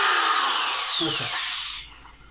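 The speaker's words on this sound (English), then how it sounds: "I honestly think that should be enough countersinking." An electric drill countersinks holes in the wood of an arcade control panel, a short close whirring burst that winds down near the end, with no talk.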